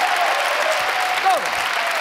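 A studio audience at a late-night comedy show claps loudly and continuously, a dense sustained burst of applause with a voice briefly cutting through.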